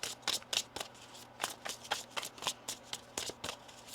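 Tarot cards are shuffled close up in quick riffling bursts, a rapid series of crisp flutters and snaps with short pauses between them.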